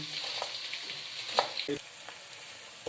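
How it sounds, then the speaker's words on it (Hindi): Onions sizzle and crackle steadily in hot oil for a Pakistani mixed-lentil daal, with a constant frying hiss and occasional stirring clinks from the pan. "अब हम अपने प्याज को अपने गरम तेल के अंदर शामिल करेंगे।"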